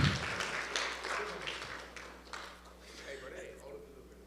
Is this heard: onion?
no